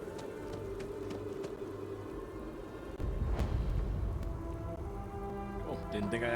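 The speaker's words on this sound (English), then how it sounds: "Oh, and it's raining." Rain falling in the video game Starfield, a steady hiss of patter that grows fuller partway through, with scattered game sounds and a voice speaking over it.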